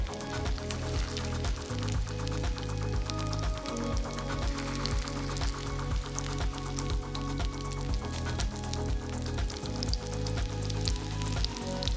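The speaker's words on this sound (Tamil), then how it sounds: "இதை நம்ம ஷாலோ ஃப்ரை தான் பண்ண போகிறோம்" Mutton shammi kebab patties shallow-fry in hot oil in a pan, making a dense, continuous crackling sizzle close up, with a steady rhythmic low thumping underneath.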